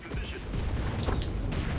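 Gunfire in the World War II shooter video game Enlisted comes as a short, chaotic burst of overlapping shots and booms, loud and close throughout.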